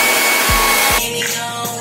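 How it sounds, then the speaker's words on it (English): A hair dryer blows over curled hair with a loud, steady whooshing hum that shifts in tone partway through as the airflow changes. "I'm going to use a hairdryer to like just go over it."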